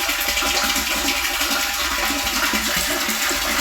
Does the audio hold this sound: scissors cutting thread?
no